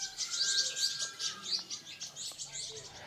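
Birds chirp among trees in an agricultural planting, giving quick, high, twittering calls that repeat continuously at a soft, moderate distance.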